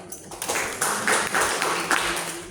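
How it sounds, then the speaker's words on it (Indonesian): Audience applause at an Indonesian official gathering, a steady wash of hand clapping with rising and falling bursts, moderately loud and continuous for a couple of seconds. "Tepuk tangan untuk kita semua"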